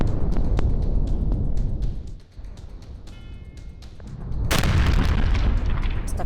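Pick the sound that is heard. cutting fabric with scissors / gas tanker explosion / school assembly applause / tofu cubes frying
gas tanker explosion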